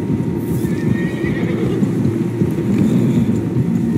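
Several horses in the video game Red Dead Redemption 2 clatter along at a gallop, hooves pounding steadily, with a whinny rising over the thundering rhythm.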